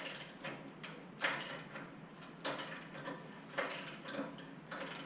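Ratchet with an extension and shallow socket working an exhaust stud on a 2019 Corvette Z06, giving several short bursts of quick mechanical clicking separated by pauses, close and fairly quiet.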